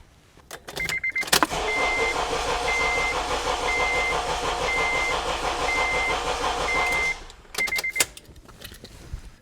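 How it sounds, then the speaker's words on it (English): A car engine cranks on its starter motor with the fuel disabled for an amp-clamp test, a steady churning drone lasting about six seconds with a regular chime beeping over it, then cutting off. "I'm going to go crank the engine"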